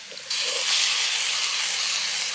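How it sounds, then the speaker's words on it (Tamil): Ginger garlic paste hits a hot pan for a village-style prawn thokku, bursting into a sudden loud steamy hiss that holds steady and sizzles on without any voices. "இஞ்சி பூண்டு பேஸ்ட் போட்டுக்கலாம்"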